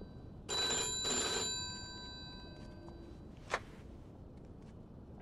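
An old-fashioned telephone bell rings twice in the video game Mafia 2, two loud metallic bursts followed by a fading tone and a single ding, with no speech.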